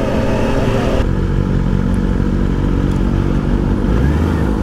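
Kawasaki Ninja ZX-6R motorcycle on a village ride: a loud, continuous engine and exhaust drone that shifts in pitch partway through, heard close and without talk.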